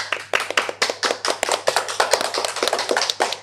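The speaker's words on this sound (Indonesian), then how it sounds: "Tepuk tangan buat narasumber kita yang luar biasa, ada Kak Daniel dan Kak Uli." Hands clap in a small studio audience for two podcast guests, a brisk, close burst of uneven claps from a few people, with no voices.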